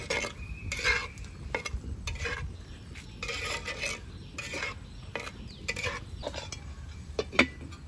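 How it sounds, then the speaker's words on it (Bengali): Potatoes and pointed gourd being stirred in a frying pan make intermittent scraping and clinking of a spatula against the metal over a soft sizzle, fairly quiet and close. "এবার সমস্ত কিছু একসাথে ভালো করে নেড়ে চেড়ে নেব।"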